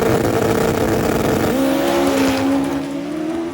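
A 1300 cc drag street bike making 850 horsepower screams through a qualifying run, its loud engine tone holding steady then stepping up in pitch with gear changes, close and continuous without talk.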